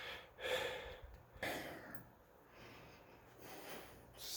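Heavy panting after a set of shoulder shrugs in a workout routine, several close breathy inhales and exhales with snort-like gusts, with no words spoken.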